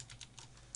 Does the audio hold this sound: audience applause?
no